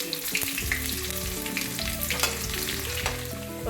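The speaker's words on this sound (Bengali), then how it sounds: "রসুনটা হালকা ভাজা হয়ে গেছে।" Chopped garlic frying in hot oil with mustard seeds and broken dried red chillies for a dal, a steady close sizzle with stirring clinks and scrapes throughout.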